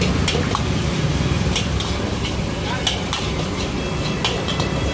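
Cabbage, onion, carrot and green chillies stir-fry in a pan, a dense steady sizzle with repeated clinking and scraping of a utensil against the pan, close and loud, while a person talks over it.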